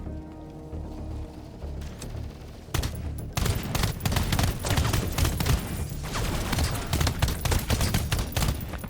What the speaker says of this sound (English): So that's the shotgun.